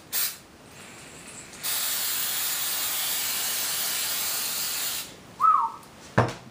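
Aerosol brake cleaner sprays in one long steady hiss for about three and a half seconds, close and loud, from a can aimed at Kydex plastic, preceded by a short burst and followed by clicks and rustles.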